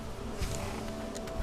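Big bees in the video game Hollow Knight give a continuous low, droning buzz, moderately loud and steady throughout, with a couple of brief thuds and no talking.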